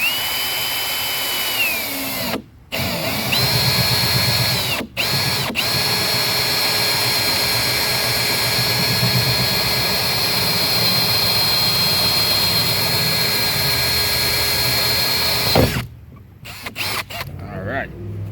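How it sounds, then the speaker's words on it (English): A power drill bores a hole through a plastic kayak hull at slow speed, giving a loud, steady whine that runs on for several seconds after a couple of brief stops and starts, then cuts off. "just slowly drill that out"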